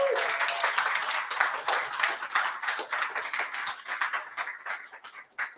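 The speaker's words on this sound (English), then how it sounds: "Can we get another round of applause?" Audience at a collegiate esports LAN finals event in Dublin claps in a steady round of applause, dense hand claps at moderate level that thin out toward the end.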